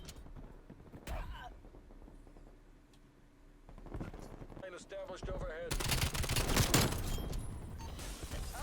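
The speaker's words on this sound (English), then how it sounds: "teammate shooting at me, that don't help" Rapid gunfire in the Black Ops Cold War multiplayer video game, sparse shots early, then dense automatic bursts building loud and close toward the end over constant game noise, with someone talking in places.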